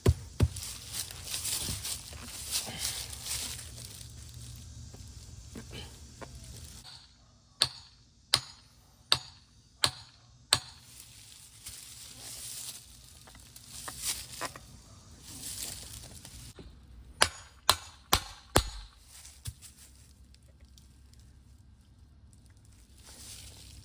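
A Duramax diesel fuel injector is smacked against a tree outdoors to work it loose: a few sharp knocks come in quick bursts, first a group of five and later four, over faint outdoor background noise with no talk.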